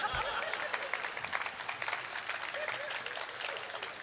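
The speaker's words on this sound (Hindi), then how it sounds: "एक आदमी ताली बजा रहे हैं" Audience applause at a mushaira poetry recital, a steady even wash of many hands clapping that holds at a constant level throughout, with a brief low thump near the start.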